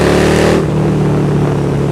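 A KTM Super Duke 1290 motorcycle engine, loud and close, revving hard in a brief sustained roar before dropping back to a lower steady drone.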